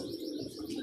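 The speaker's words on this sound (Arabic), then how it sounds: "ابو عبده رافع حمامه" Domestic pigeons coo in a brief, low, throaty murmur that stays steady and moderately close, with no voices over it.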